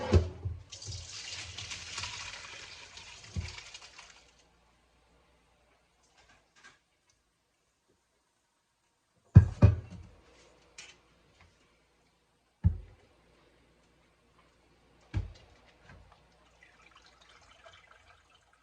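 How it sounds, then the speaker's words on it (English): Juices from a cooked pork roast pour through a strainer in a brief watery splashing stream that stops after a few seconds, followed by a few isolated clanks and drips in near silence. "I did go ahead and put a strainer in here because I do want to save the juices"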